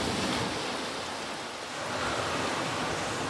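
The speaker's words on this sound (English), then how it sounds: "The waves are crashing just behind me." Ocean waves crash and wash steadily in a bay close by, a continuous loud roar of surf that dips briefly and then builds again.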